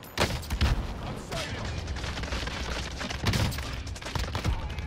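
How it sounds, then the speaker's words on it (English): Video game gunfire during a firefight: dense bursts of shots and sharp cracks fill the whole span, with loud peaks near the start and again midway, under a constant noisy battle mix. "We're still getting sniped, so... Still getting shot."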